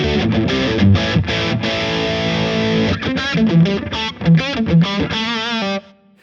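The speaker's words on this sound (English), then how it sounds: "I'm on the distorted channel, and the tone sounds like this." Electric guitar played through a crunchy distorted amp, chugging chords and quick riffs, loud and up close, ending abruptly.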